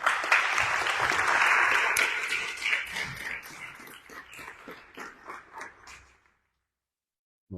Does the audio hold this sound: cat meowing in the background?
no